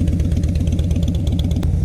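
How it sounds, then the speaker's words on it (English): A Harley-Davidson FatBoy V-twin fitted with a Vance and Hines exhaust idles loudly and close by, with a steady, lumpy, uneven pulsing throb that never lets up. "I think it sounds pretty dope with the Vance and Hines exhaust"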